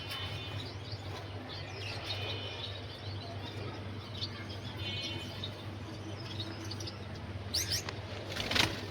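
Gouldian finches in a breeding aviary give faint, scattered chirps and soft wing flutters over a low background hum, with a sharper burst of activity near the end.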